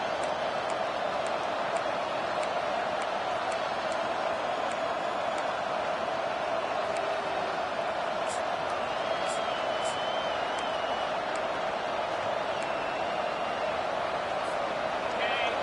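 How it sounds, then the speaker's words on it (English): A college football stadium crowd roars steadily on first and goal from the far side, a sustained wash of cheering and noise that stays under an announcer's play-by-play commentary the whole way through. "This offense trying to quieten the crowd on 1st and goal, and they are not cooperating"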